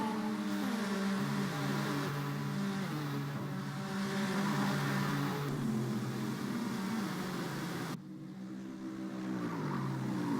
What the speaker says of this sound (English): Hearing the roar of these cars for the first time in a month is always nice to hear.